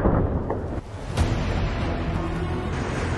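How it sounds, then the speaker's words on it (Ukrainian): A weapon shot fired during a military raid by Ukrainian intelligence troops, heard as a sharp blast around the one-second mark followed by a long, rumbling roar that lingers to the end. "Постріл!"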